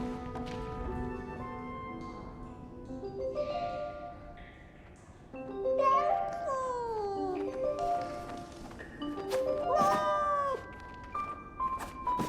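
Cat meowing in the video game 11-11: Memories Retold, a few drawn-out mews and cries rising and falling over soft sustained music, moderately close.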